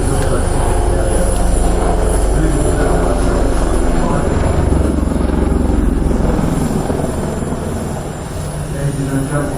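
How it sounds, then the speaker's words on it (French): A Tiger multi-role attack helicopter flies at the Paris Air Show at Le Bourget, its loud, steady rotor and engine roar filling the air while an announcer speaks over it. "now presented to you the Tiger 8AD. This multi-role attack helicopter"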